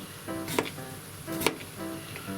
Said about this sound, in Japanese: こやつらをみじん切りにします